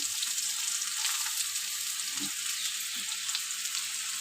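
Onion, garlic, ginger, tomato paste and ground spices such as cumin, chili and turmeric frying in a pan for a jackfruit and egg curry, a close, steady sizzle with faint stirring throughout.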